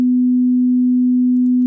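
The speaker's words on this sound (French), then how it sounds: "la fréquence de 250 Hz. Dans la fenêtre ici en bas, nous voyons une onde sinusoïdale." A steady 250 Hz sine wave test tone holds at a constant loud level for under two seconds, pure and unbroken, with no voices.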